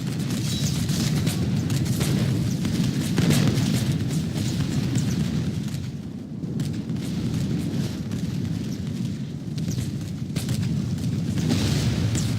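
Cannon and mortar fire in a Thirty Years' War siege battle video game, a continuous dense rumble of deep booms and blasts rolling together without pause.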